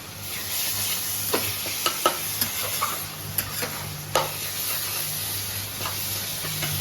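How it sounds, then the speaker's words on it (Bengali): Tomato daal stirred in hot frying oil gives a steady soft sizzle, with scattered light scrapes and taps of the spoon against the pan. "এবার এটাকে ভালো করে নাড়িয়ে দেবো।"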